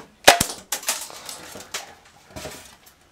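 A homemade Coke bottle balloon gun fires a buckshot load of peas, giving a sharp snapping pop followed by a rapid spatter of small impacts and light rattles, close and without speech.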